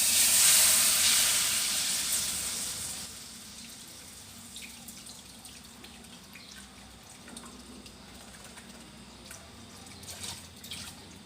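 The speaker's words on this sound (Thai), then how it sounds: "น้ำกะทิเดือดหอมแล้วห้องก็ใส่ เครื่องแกงลงไปเลยได้จ้าเด้อ" Coconut milk bubbling in a pot for a Thai curry gives a loud hiss at first, fading to a soft, steady simmer with faint pops and crackles.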